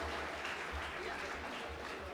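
An audience claps steadily to welcome poet Alok Sharma to recite his poetry, a dense, even patter of many hands that sounds faint and distant throughout the short burst.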